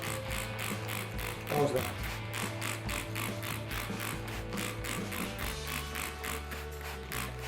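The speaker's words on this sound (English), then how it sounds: "this is an homemade spray" A homemade trigger spray bottle mists compost in a carrot pot, making a rapid, regular run of clicking squirts at close range, with a short spoken remark partway through.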